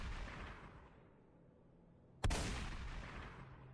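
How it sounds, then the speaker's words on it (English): One sharp, loud gunshot cracks out after a stretch of low rumbling quiet, followed by a long, echoing decay. "Then, the 2 gunshots."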